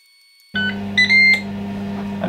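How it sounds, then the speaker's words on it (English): A Ninja Woodfire air fryer sounds its ready signal, a short series of bright electronic beeps over a steady appliance hum, close and clear. "there we have the Ninja beep to say we're ready"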